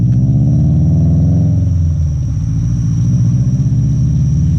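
A deep, steady engine rumble from a 2018 Subaru WRX STI with an aftermarket exhaust idles close by, with a low throaty burble that swells slightly and settles, loud and continuous with no talking.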